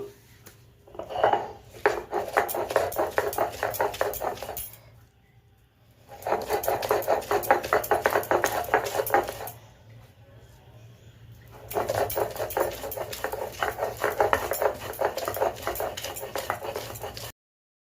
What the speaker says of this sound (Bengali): এবার আমি বাটা দিব